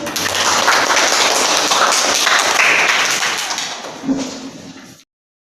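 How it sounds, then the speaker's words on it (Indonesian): Classroom students clapping for a classmate after she answers a question, a dense, steady patter of many hands that fills the room and then fades out near the end. "Kita kasih tepuk tangan untuk Nerin."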